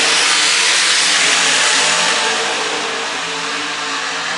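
Loud, continuous roar of engines, strong at first and easing slightly, like cars powering along a track close by.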